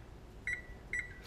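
A convection oven timer sounds two short, clear electronic beeps about half a second apart, each a quick double pulse, fairly faint over a quiet room.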